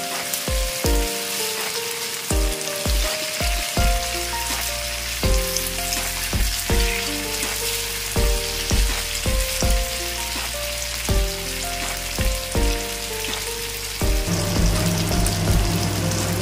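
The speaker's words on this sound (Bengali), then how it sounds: "ভাজতে থাকবো" Paneer frying with spices in a pan for paneer Afghani, giving a steady, close crackling sizzle that runs throughout under background music.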